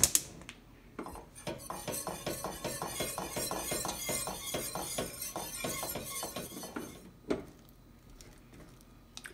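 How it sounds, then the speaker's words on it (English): A whisk rattles rapidly against a metal saucepan as flour and milk tangzhong heats over medium heat, a dense run of quick metallic clinks for several seconds, then pausing before a few scattered final taps. "I'm going to heat that up over medium heat and whisk it until it gets thick"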